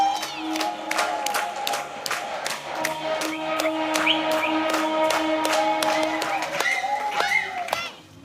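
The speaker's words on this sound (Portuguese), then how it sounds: "Estamos passando pela primeira ponte e todos começam a aplaudir." Boat passengers clapping and cheering as the boat passes under a bridge, rhythmic hand claps over a sustained backdrop of voices and music, close and lively throughout.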